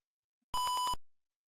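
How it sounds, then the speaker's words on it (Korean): Arduino buzzer sounding once when a traffic-light timer runs out, a single loud, steady electronic beep of about half a second, alone in silence. "빨간불로 바뀌면서 삐 소리가 나게 됩니다."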